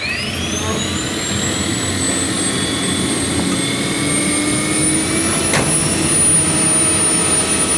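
A 1962 Chrysler Turbine car's gas turbine engine runs with a loud, steady jet-like whine whose pitch climbs smoothly as it spools up, close and continuous with a brief click partway through.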